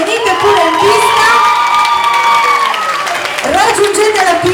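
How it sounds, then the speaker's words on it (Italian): A loud crowd at a Saturday night horror-themed party cheers and shouts, with high children's whoops and some clapping mixed into a continuous, close roar. "io farei un grande applauso"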